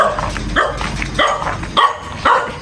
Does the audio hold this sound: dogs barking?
yes